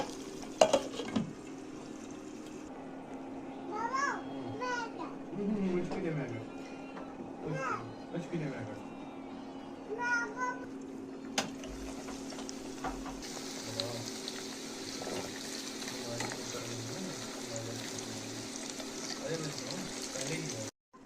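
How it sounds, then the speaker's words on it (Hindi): Potatoes sizzle steadily in hot oil, a soft continuous crackle, while a voice talks over it and utensils clink now and then. "अब हम इसमें करेंगे आलू को फ्राई"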